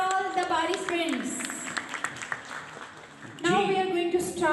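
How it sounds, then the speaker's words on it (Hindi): A school quiz competition audience in Pakistan claps for the participants, a short patch of scattered applause between stretches of a host speaking. "Give a big hand for all the Bari friends."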